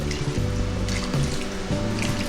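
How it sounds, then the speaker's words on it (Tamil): Water pours from a tap or vessel into a pressure cooker holding beans, a steady close splashing and trickling with faint drips, continuous throughout. "கொஞ்சமாக தண்ணி ஆட் பண்ணிக்கலாம்."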